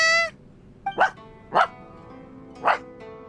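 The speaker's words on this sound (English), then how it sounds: "Tumahol si Doggy, si Tarumaru." Dog barks from a Genshin Impact scene set in a quiet game location, three sharp, fairly close barks spaced about half a second to a second apart, with a brief tone at the start and quiet background between them.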